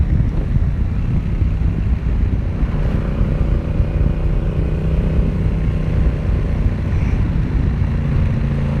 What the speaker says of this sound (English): So I'm riding the 2018 Yamaha XSR700.